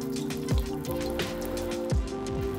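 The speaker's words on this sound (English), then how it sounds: "If it starts to sizzle and pop and cook immediately" A pinch of flour dropped into hot frying oil for beer-battered walleye sizzles and pops in a steady crackling hiss, with a few sharper bursts standing out close by.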